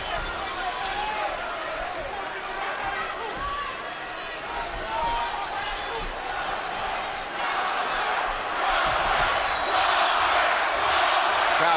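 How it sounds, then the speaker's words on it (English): A boxing arena crowd chants a fighter's name, Crawford, during the Terence Crawford vs Dierry Jean bout, the rhythmic roar swelling louder toward the end beneath a commentator's talk. "Crowd chanting Crawford, Crawford."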